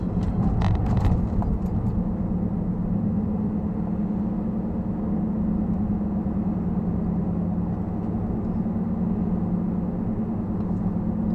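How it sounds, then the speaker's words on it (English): Steady, loud road rumble and low engine hum from inside a car driving along, with a constant tire and wind roar and a few light rattles early on, no speech. "I'm driving too fast"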